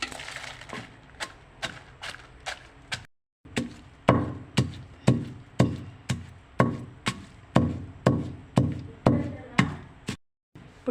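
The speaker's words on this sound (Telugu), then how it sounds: "ఇప్పుడు ఎండుమిరకాయలు దంచుకుందాం" Dried red chillies pounded in a stone mortar, a run of sharp, evenly spaced thuds at roughly two per second, close and loud, with two short pauses between bursts.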